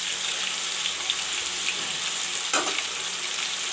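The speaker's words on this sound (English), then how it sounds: "I fried the potato and the drumstick for 2 minutes" Potato pieces and chicken drumsticks frying in a pan for a drumstick curry, giving a steady, close broadband sizzle with a brief louder stir or clatter midway.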